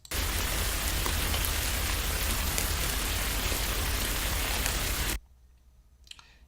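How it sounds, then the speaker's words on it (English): A short looping rain sound effect pours as dense, steady hiss and patter, then cuts off abruptly after about five seconds into near silence. "So this clip that we chose, Rain Loop Short, starts and stops pretty abruptly."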